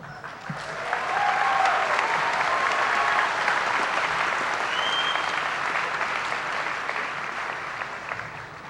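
Audience applause at a high school graduation commencement ceremony, a steady sustained wash of many hands clapping in a large crowd, swelling after the start and holding loud throughout.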